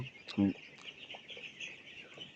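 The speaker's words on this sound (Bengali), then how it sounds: "তো আজকে মুরগির বয়স 17 দিন। তো আলহামদুলিল্লাহ মুরগিগুলো সুস্থই আছে।" Seventeen-day-old broiler chickens on a farm give one loud nearby cluck, followed by faint chirps and clucks over a steady background hum of the shed.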